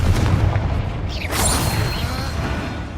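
A Confringo fire spell explodes in the Hogwarts Legacy video game: a loud booming blast with a rushing whoosh and crackling debris that rolls on and slowly fades.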